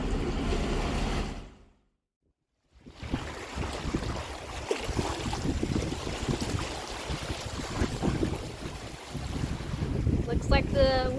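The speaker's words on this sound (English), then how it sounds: "Looks like the wind finally arrived" Wind buffeting a sailboat under sail some 20 to 30 miles offshore, a steady broadband roar of gusts, water and hull noise, broken by a brief silent gap early on and rising toward the end.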